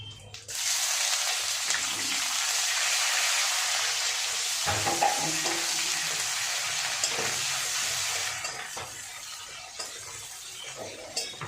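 Sliced onion with black cumin seeds fries in hot oil, a loud, steady, close sizzle that runs for several seconds before easing slightly, with occasional faint stirring clatter.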